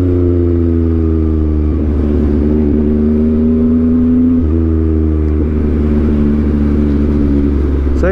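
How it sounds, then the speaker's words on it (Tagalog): Yamaha MT-09 motorcycle idling and revving steadily up close, its engine drone rising and falling with short exhaust pops and crackles from the backfire. No one speaks. "Sarap pakinggan ng backfire niya."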